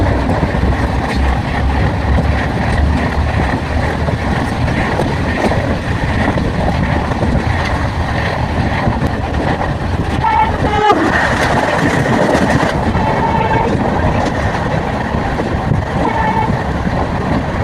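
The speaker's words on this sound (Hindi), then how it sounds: "फाइनली कुछ टाइम वेट करने के बाद हमारी ट्रेन आ गई है।" A passenger train pulls in at Satna Junction in India, a steady loud rumble of wheels and carriages that fills the platform throughout, with a brief harder clatter partway through.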